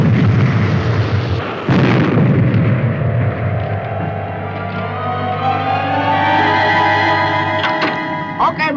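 A heavy weapon fired from the Supercar vehicle in a 1960s puppet adventure, a loud booming burst followed by a long rumbling roar and rising mechanical whine.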